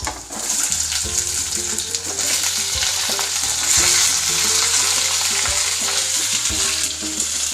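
Vegetables sizzle and crackle in hot oil seasoned with cumin and dry spices for matar paneer, a loud continuous frying hiss with clinks and scrapes of stirring throughout.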